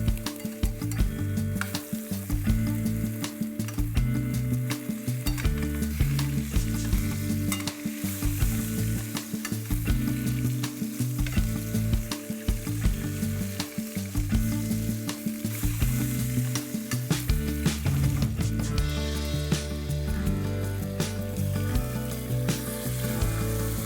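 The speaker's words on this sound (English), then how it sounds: "begin to sear the steaks for about 3 to 4 minutes on both sides" Steaks sear in hot vegetable oil in a pan, giving off a loud, continuous crackling sizzle with pops and occasional stirring scrapes, and no voices are heard.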